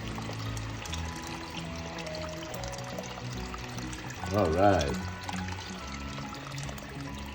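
Water pours into a pot of Filipino chicken glass noodle soup in a short burst midway, close and clear, while someone talks over a low kitchen hum.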